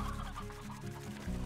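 Chickens in the Slime Rancher video game cluck in a brief, busy burst of soft, repeated clucks over a low background hum.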